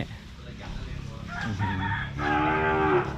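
A grass-fed Brahman cow at a cattle and buffalo market gives a drawn-out moo near the end, over a background of farmyard noise and other animals.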